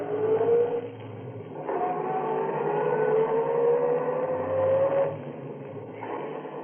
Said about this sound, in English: I drove away.